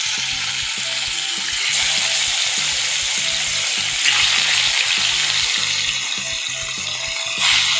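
Khonga fish frying in hot oil makes a loud, steady crackling sizzle close by, with faint background music underneath and no speech.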